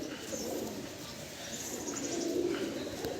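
Pigeons coo softly and repeatedly close by, with low murmuring calls and a few faint chirps over a quiet background.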